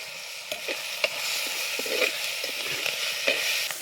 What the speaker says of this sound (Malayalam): നമ്മൾ കറിവേപ്പിലയും കൂടി ഇട്ട് കൊടുക്കുക.